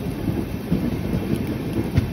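The Kolkata–Sairang Express, train 13125, rumbles steadily along the rails after departing Krishnanagar City Junction, with a continuous low roar and soft, irregular wheel clatter heard from on board.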